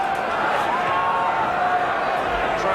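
A football crowd at a 1984/85 Grimsby cup match chanting and cheering: a steady, distant mass of voices with a faint sung tone running through it, continuous and unbroken throughout.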